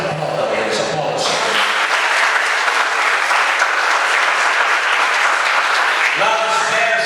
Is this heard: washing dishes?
no